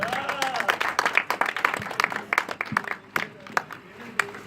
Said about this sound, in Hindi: अब आप सबकी भरपूर तालियों की गूंज में तशरीफ़ लाते हैं मोहम्मद